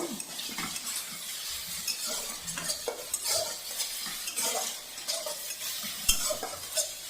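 Lentils hit a hot tempering of chopped onion, garlic and dried red chilli, giving a loud, close sizzle broken by repeated scraping and clinking of a utensil stirring in the pan.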